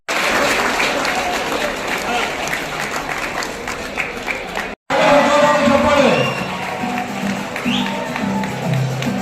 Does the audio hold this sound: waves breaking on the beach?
no